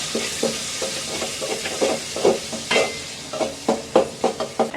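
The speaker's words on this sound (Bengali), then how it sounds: "আমি এখন রান্না করব হলো পালং শাক দিয়ে দিলাম পেঁয়াজ" Spinach and onion fry in a pan, with a soft sizzle under repeated scraping stirs in an uneven rhythm, close and moderately loud, with no talking.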